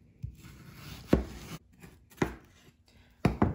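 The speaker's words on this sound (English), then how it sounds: "So now we're beginning to chop the onion" An onion is chopped with a knife on a board, four distinct sharp thuds spaced about a second apart, close and crisp with quiet gaps between.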